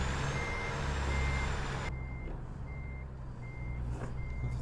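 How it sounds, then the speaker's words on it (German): Reversing beeps from a truck in American Truck Simulator: a steady series of evenly spaced electronic beeps over a constant low engine rumble, with no talk. "dann muss ich jetzt hier halt nur so rückwärts fahren."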